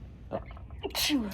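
A single short sneeze bursts out close by amid quiet conversation, sharp and breathy with a quick rising tail.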